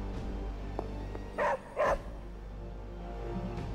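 A dog in Marvel's Midnight Suns video game gives two short, sharp barks close together, heard over a quiet low game ambience.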